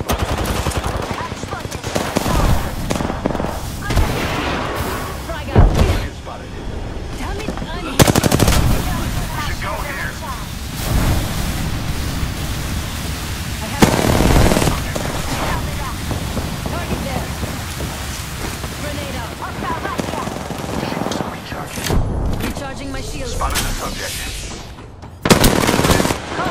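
Gunfire in the video game Apex Legends comes as loud, dense bursts of automatic shots and sharp impacts, repeating in clusters over a continuous busy game soundscape.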